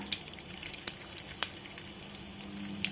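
Mustard seeds, urad dal, cumin and dried red chillies frying in hot oil for a tempering in drumstick curry: a steady low sizzle punctuated by a few sharp pops and crackles, close and quiet, with no voices.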